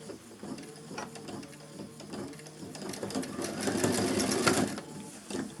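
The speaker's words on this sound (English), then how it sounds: "I'm going to start stitching." A sewing machine stitches a curved zip in a quick, rhythmic mechanical patter that is fairly quiet and speeds up and grows louder toward the end.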